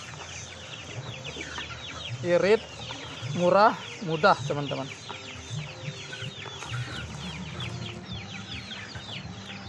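Many chickens cluck and squawk close by in a busy flock while eating homemade feed of leaves, with a few sharp louder calls, while a person speaks briefly over them.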